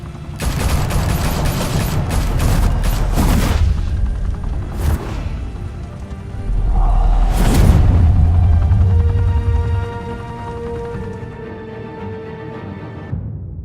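Gunfire in Batman: The Telltale Series, a loud close fusillade of rapid shots and booms, then a rumbling whoosh and heavy blast, fading into a lingering mechanical drone.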